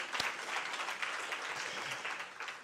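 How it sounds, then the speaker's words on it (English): A book club launch audience claps again on request, dense applause from many hands sustained evenly for a few seconds, moderately loud, with no talking over it. "Let's clap again."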